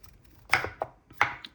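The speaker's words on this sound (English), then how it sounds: "Just chopping, chopping, chopping." A knife chops pickles on a cutting board with sharp, close thuds in two quick pairs, loud against a quiet background.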